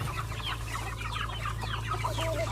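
Guinea fowl cluck and call continuously at close range, with a low steady hum underneath and no talking.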